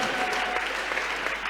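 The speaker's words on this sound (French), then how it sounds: "Est-ce que vous pouvez acclamer pour vous-même?" A church congregation at a New Life Church convention bursts into steady, dense applause, a continuous wash of clapping hands filling the room for the whole moment.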